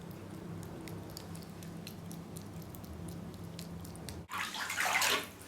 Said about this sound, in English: just cup your hand and pour some water over her